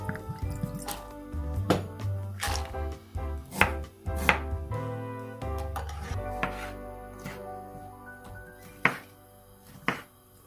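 Knife chops through tomatoes, onion, ginger and garlic on a board in a kitchen, with a dozen or so sharp, close cuts at an uneven pace and some soft wet squishing between them.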